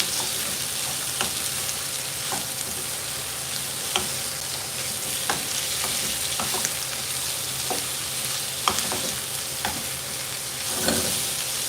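Pancit canton vegetables including celery and asparagus sizzle in a hot pan while being stirred, steady frying hiss with repeated scraping and clattering strokes, no talking.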